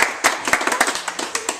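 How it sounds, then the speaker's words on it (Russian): Brisk, close clapping from a small audience at a certificate presentation during a training on indigenous traditional knowledge, with distinct individual hand claps in an uneven rhythm. "Под ваши громкие аплодисменты."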